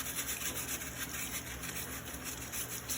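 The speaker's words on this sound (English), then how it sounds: "we're gonna take this brush and we're just gonna kind of scrub some of this stuff out." A brush scrubs rapidly back and forth across the mesh screen of a Bosch dishwasher filter, close and continuous, a rhythmic scratchy rasp with no talk.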